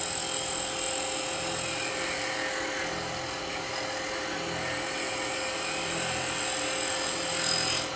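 A lathe spins a yew goblet while a negative rake cutter cleans up its edge, producing a steady, even whine with a light scraping hiss that runs unbroken throughout, without speech.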